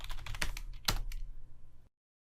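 A computer keyboard clatters under fingers keying in a password, a quick burst of close, quiet keystrokes with one sharper tap partway through, then silence.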